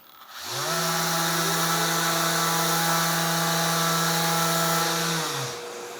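A Festool ETS orbital sander spins up, runs steadily for about five seconds while tipped on one edge and digging into wood, then winds down, a loud close whine with a strong steady pitch and no talk.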